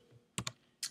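Keyboard shortcut presses on a computer keyboard while editing in Photoshop: a quick double click followed by a single sharper tap, close and crisp, with no talk.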